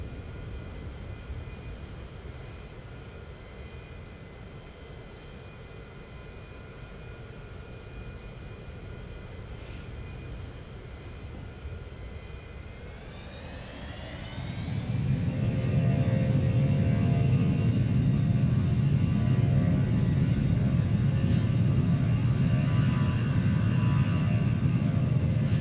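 Airplanes in the Transport Fever game taxiing out, a steady engine drone that swells into a louder, rising roar partway through, continuous with no talk.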